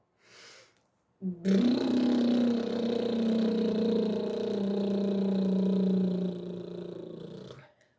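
A voice imitates an engine running, holding a steady low buzzing hum for several seconds before trailing off.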